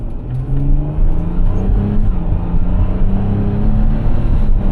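A used car's engine revs steadily and loudly, its tone rising and falling with gear changes as the automatic transmission flares between shifts, a continuous close mechanical drone with no voices.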